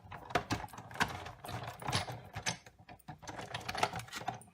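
A hand-cranked die-cutting machine pressing a plate through, a quiet series of irregular mechanical clicks and rattles close by.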